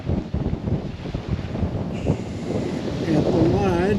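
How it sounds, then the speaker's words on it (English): Steady wind gusts buffet the microphone outdoors beside the lake at Grand Portage, a rough continuous roar with a brief whistling tone near the end. "And it's windy here, but that's all right."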